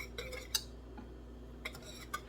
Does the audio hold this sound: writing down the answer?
no